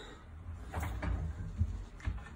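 Fancy drawers in a new-build kitchen slide open with soft low rumbles and a few muffled knocks and bumps, close by and fairly quiet.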